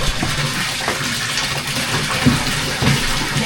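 Water gushes from a tap into a container being filled, a continuous, loud splashing rush that stays steady from start to end.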